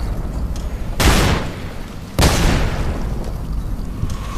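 Two loud shotgun blasts in the Fallout: New Vegas video game, spaced about a second apart, each a sharp boom with a short rolling tail over a steady background of game ambience.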